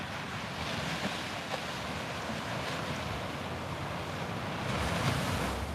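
Ocean waves break steadily on a Florida beach in clean surf, a continuous loud wash of rolling water with gusts of wind buffeting the microphone and a swell of stronger surf near the end.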